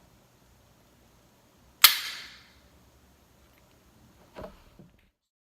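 A Glock 43 fitted with a Hyve aftermarket trigger gives one sharp, crisp click of the trigger breaking, followed a few seconds later by a softer double click as it resets, close and isolated with no talk.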